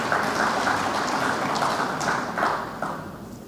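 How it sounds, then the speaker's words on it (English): Audience applause at an official opening ceremony: steady, dense clapping from a large crowd, sustained and even throughout, rising slightly in spots, with no voices. "Can you please give him another round of applause?"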